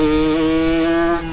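Yamaha YSR50 mini bike with upgraded exhaust and carburetor, its small engine screaming at high RPM in a loud, sustained buzzing tone that holds steady and then eases slightly at the end.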